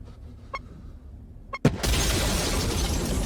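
A bomb hidden in a helicopter's cargo detonates in a Resident Evil film, a sudden sharp blast after two faint beeps, followed by a loud, sustained roaring rumble.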